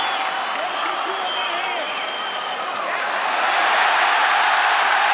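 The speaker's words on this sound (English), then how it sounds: "Listen to this crowd." Loud arena crowd noise at a UFC 284 fight between Volkanovski and Makhachev, a steady roar of cheering that swells louder toward the end, with commentator talk running over it.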